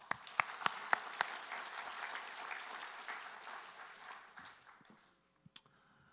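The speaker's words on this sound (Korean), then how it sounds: "박수 한번 하겠습니다" Church congregation at a Sunday morning service in Mokpo applauds, opening with a few sharp distinct claps that merge into moderate, fairly quiet group clapping, which fades out toward the end with a couple of stray claps.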